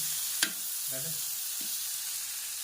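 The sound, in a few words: chicken sautéing on a tawa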